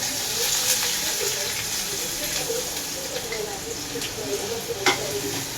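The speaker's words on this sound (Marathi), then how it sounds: "कांदा चांगला परतून घ्यायचा" Onions frying in plenty of oil for chicken keema give a steady close sizzle, with brief clinks of stirring over the hiss.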